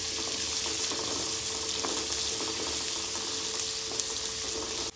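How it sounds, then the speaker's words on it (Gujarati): Chopped onion sautéing in a pan for masala khichdi, giving a steady close sizzle with occasional soft stirring scrapes throughout, no voices. "ચોપ કરેલી ડુંગળી એડ કરું છું. ડુંગળીને સાંતળી લેવાની છે."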